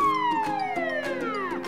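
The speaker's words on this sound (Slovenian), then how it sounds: "Pridrvijo gasilska vozila, sirene tulijo in luči zavijajo." Fire engines rush to a blaze, their sirens wailing in long, loud falling tones that repeat over the roar of traffic.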